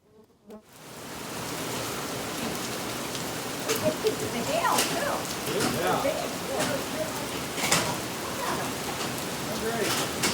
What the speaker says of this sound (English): So that is hailstones falling.